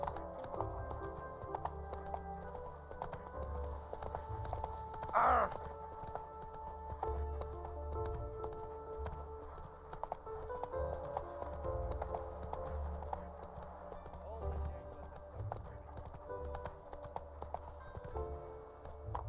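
Roach, Geralt's horse in The Witcher 3, galloping steadily with rhythmic hoofbeats throughout, over game music and ambience, with a brief whinny partway through.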